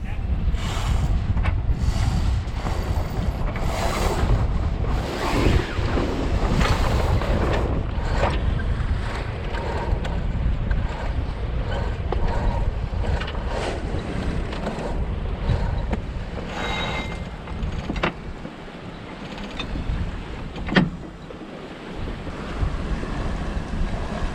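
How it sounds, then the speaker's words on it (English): Strong williwaw winds roar over a sailboat on a winter passage to Alaska, a loud continuous buffeting of wind noise and rushing water with gusts swelling and easing throughout. "the temperature started dropping further and the wind started picking up"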